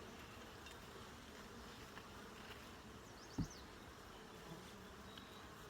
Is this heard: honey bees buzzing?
yes